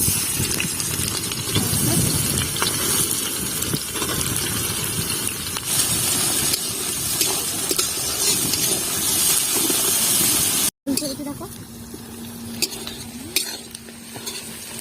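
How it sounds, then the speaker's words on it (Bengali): Potatoes and onions fry in hot oil for a picnic meat curry, a loud steady sizzle broken by a spatula scraping and stirring against the pot, with a brief cut and a quieter, softer sizzle afterward. "এখানে এই যে আলু কটা ভেজে নিয়েছি, আর এখানে দিয়েছি পেঁয়াজগুলো।"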